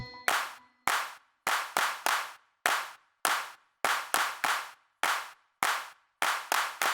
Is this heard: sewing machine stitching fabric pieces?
no